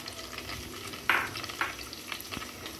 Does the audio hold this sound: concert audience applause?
no